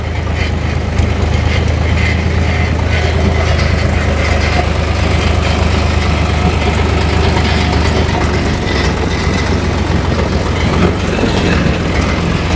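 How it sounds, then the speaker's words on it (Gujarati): A tractor engine rumbles steadily at low speed on a slightly sloping road, a continuous deep drone with rattling and road noise throughout, no voices. "ટ્રેક્ટર હિતેનભાઈ સ્લોલી સ્લોલી હાકે જાય છે"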